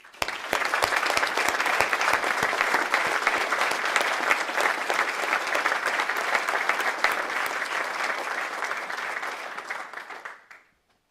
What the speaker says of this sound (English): Let's give all those people a round of applause.